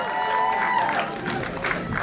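Audience applause at a film press conference, a short spell of crowd clapping and cheering mixed with a voice and some tonal sound.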